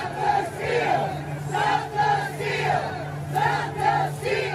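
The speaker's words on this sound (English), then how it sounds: "Here's what that crowd looks like on the east." Crowd of rioters on the east side of the Capitol shouting in rising and falling waves of massed voices, loud and sustained, with chant-like bursts roughly every second.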